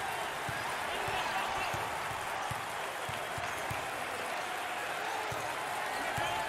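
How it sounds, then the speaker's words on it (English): Basketball crowd noise from the video game NCAA Basketball, Tulsa at Houston, a steady, moderately quiet roar of cheering fans, student sections and band with faint ball bounces underneath. "Listen to the crowd."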